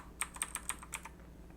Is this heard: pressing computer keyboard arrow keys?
yes